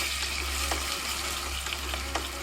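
Pork stir-fries in a pan with oyster sauce nearby, a dense continuous sizzle close up, broken by brief scraping and stirring clicks.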